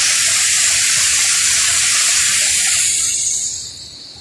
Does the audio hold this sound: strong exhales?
no